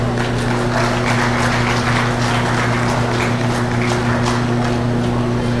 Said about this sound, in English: give these young gentlemen a round of applause